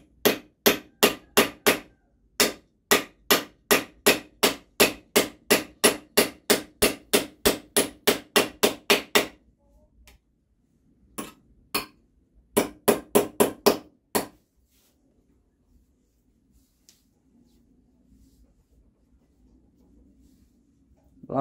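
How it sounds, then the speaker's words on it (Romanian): A hammer taps a knife to carve wood while an axe handle is being replaced. Dozens of sharp, close knocks come in quick even runs, then shorter bursts separated by pauses, and finally near silence. "voi bate ușor cu ciocanul."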